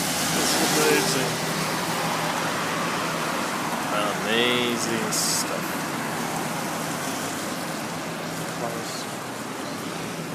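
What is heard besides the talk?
rain falling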